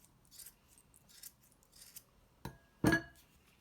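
Scissors trimming a yarn pom-pom, a few soft quiet snips followed by a couple of sharper, louder cuts near the end.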